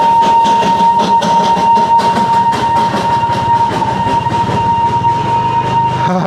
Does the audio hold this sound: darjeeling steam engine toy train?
yes